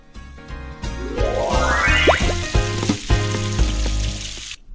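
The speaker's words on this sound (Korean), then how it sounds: "It's raining." Steady hissing rain pours throughout, joined by bright chiming and springy cartoon-like tones layered on top.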